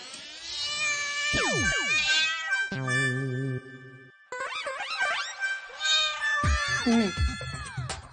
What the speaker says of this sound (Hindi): बिल्ली आ गई अंदर।